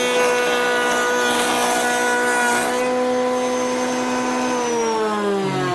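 Router table motor whining at a steady high pitch as a board is fed through to cut a tongue, the tone dropping slightly near the end as the cut loads the bit.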